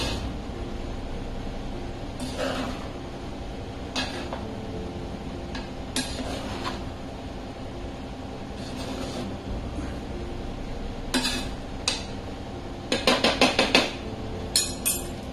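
A spoon stirs a pot of broccoli, green pea and brown basmati rice pulav, giving sparse scraping strokes and a quick cluster of metallic taps near the end, close by with no voices.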